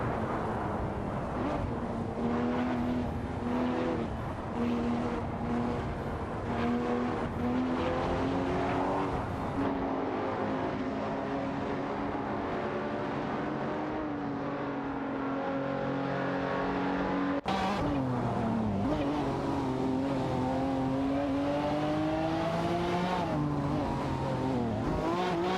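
Race cars in an AI racing video game roar continuously, engines droning and shifting pitch through gear changes with occasional tire squeal, a dense loud motor sound that cuts abruptly partway through as the view changes.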